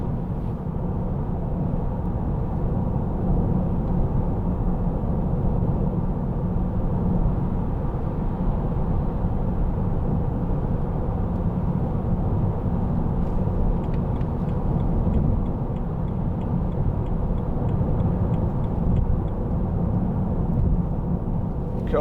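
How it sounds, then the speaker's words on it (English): A 2008 BMW 320i M Sport two-door with a 2.0 engine, harder suspension and wide low-profile tyres drives along, giving a steady, loud cabin roar of tyre and road noise that stays even throughout, with no talking. "a little bit of tyre noise which you would expect anyway from the M Sport with the harder suspension"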